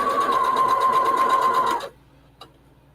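A sewing machine runs steadily for almost two seconds, stitching fabric with a fast whirring rhythm, then stops abruptly, followed by one small click in the quiet.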